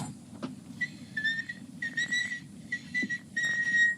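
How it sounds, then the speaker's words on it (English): A seven-year-old child's clear, high whistled tune in several short phrases, each note held steadily, with a faint low hum underneath and no talking. "Listen to that kid whistle."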